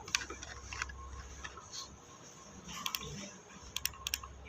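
Quiet keyboard typing in short bursts of light clicks, sparse at first and quicker toward the end, over a low steady room hum.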